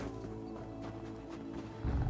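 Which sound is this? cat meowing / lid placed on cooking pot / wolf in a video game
wolf in a video game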